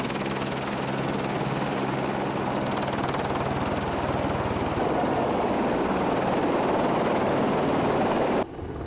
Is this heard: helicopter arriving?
yes